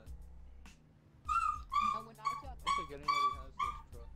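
A dog gives a run of high, yelping whimpers and short barks close by, several in quick succession over a low background hum, heard during a Grand Theft Auto Online livestream.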